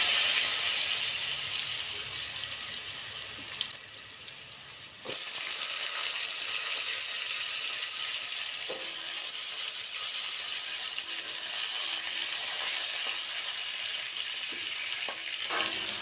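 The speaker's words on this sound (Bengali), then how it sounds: "আলুগুলো লাল লাল করে আগে ভেজে নেব।" Potato pieces frying in hot oil with dried red chilli and bay leaf, a steady broad sizzle filling the clip with a brief dip and a few faint clinks and scrapes.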